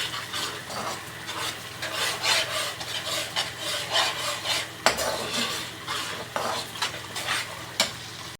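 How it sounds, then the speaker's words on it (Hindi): A spoon scrapes and clacks against a pan while spices are stirred into a sizzling chicken mixture, with repeated rhythmic rubbing strokes and occasional sharper knocks over a faint, steady frying hiss. "सारे स्पाइसेस डाल के हम मिक्स कर देंगे।"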